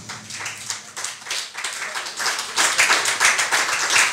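A church congregation claps and cheers in acclaim of the Lord, dense, steady applause that swells louder in the second half, with no clear speech above it.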